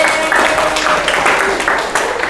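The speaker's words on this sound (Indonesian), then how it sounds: "Kasih tepuk tangan buat Sania nih." A classroom of students clapping for a classmate, with dense, lively applause at close range that holds steady for a couple of seconds, mixed with children's voices.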